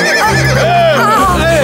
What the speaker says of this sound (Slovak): kôň, ktorý sa vzoprel samotnému cisárovi